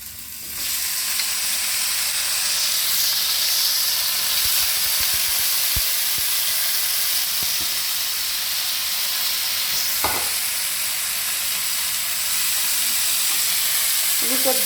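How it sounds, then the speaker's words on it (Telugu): Eggplants fry in about two tablespoons of oil in a pan, making a loud, continuous sizzle and hiss with occasional stirring clatter, close and steady throughout. "ఆయిల్ వేసి ఈ వంకాయలు ఉన్నాయి కదండి ఈ వంకాయలు ఫ్రై చేసుకుందాం"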